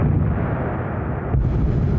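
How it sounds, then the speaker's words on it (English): Progress cargo ship colliding with the Mir space station, heard from inside as a dull, far-off rumbling thump; steady low broadband rumble with a slight swell partway through, no voices. "I felt through my fingers a shudder, a thump on the station, and I heard what seemed to be far off, a ka-thump."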